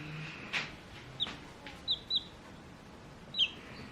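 Newly hatched chicken chicks give a few short, high peeping chirps, spaced irregularly and fairly close, over a quiet background.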